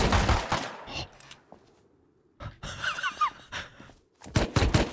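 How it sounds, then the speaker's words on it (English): Gunfire in Rust sounds in short bursts of sharp cracks separated by quiet stretches, mixed with a player's gasps and murmured talk. "So much shooting."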